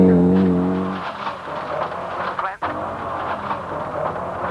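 Vatanen's 1989 World Rally Championship car running at Donington Park: a steady engine tone at first gives way to a loud, broad roar with a brief sharp dip midway, and a voice speaks over it.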